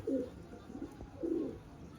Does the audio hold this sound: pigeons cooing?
yes